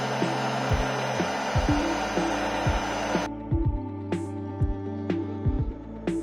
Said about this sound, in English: I did the same heat gun effect on that.